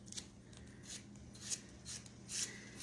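A knife slices squash into little strips on a cutting board, making soft, faint, evenly spaced cuts in a quiet kitchen.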